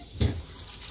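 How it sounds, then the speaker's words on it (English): Shower water runs while a dog is bathed, a soft wash of splashing with one brief louder gush near the start, otherwise a low steady hiss. "¡You like the shower!"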